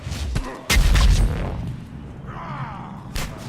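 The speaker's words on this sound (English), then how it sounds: "that fire explosion on him." A fire explosion in the Mass Effect 3 multiplayer shooter, a sudden heavy boom with a deep rumbling burst that fades into a lingering whoosh, followed by a brief sharper hit near the end.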